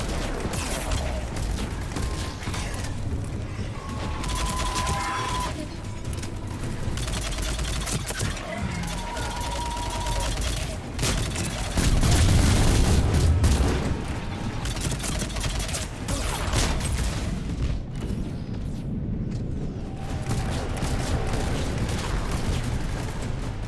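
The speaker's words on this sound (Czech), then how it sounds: "On po mně furt střílí, já se nemůžu ani hnout." Sustained video-game gunfire from Mass Effect 3, a dense fusillade of shots and booms running steadily throughout, loud and continuous with explosive swells around the middle.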